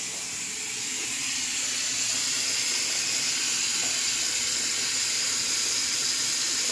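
Water runs steadily from a tap while someone lathers face wash to wash their face, a constant broadband hissing rush close to the microphone and unbroken for the whole stretch, with no talking.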